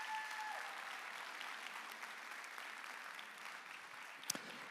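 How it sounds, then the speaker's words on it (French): An audience at a thesis-presentation final applauds the contestants one last time, dense continuous clapping held at an even, moderate level for several seconds, with a single sharp knock near the end. "Vous pouvez les applaudir une dernière fois avant qu'ils regagnent les coulisses."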